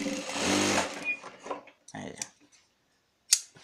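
A sewing machine stitches a petticoat hem in one short whirring burst, followed by scattered clicks and handling noises, with a voice talking faintly in the background.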